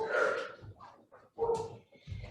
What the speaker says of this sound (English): Please ignore my guardian dog barking out there.